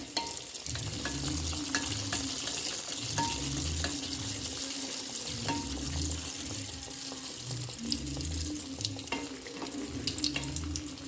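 Athirasam, a sweet dough disc, frying in hot oil: a steady sizzle and bubbling with a regular rhythmic scraping and pressing of a ladle every second or so, close up and with no talking.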